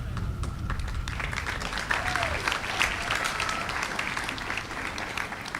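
An audience at a school commencement applauds steadily, dense clapping filling the room at moderate volume with a faint murmur of voices underneath.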